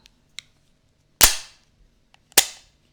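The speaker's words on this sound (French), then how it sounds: "On va donc retirer le chargeur et vérifier la culasse" A Radom Vis 35 9 mm pistol has its slide racked, with two sharp metallic clacks about a second apart, each preceded by small clicks, close and loud with no voices.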